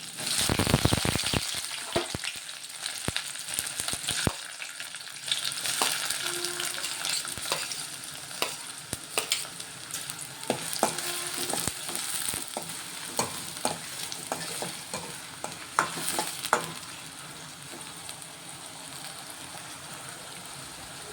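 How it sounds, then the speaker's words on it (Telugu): Chopped onions sizzle and crackle in hot oil in a pan, with loud continuous frying hiss and scattered pops and stirring clicks throughout, fading slightly toward the end. "ఆయిల్ వేడవుతుంది ఇప్పుడు పట్టించుకున్న ఉల్లిగడ్డలు వేసుకుంటున్నాను"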